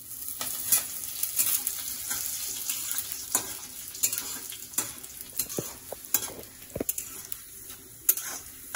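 Curry leaves, chana dal and urad dal frying in hot oil for semiya upma, a steady close sizzle with crackling pops and stirring scrapes throughout.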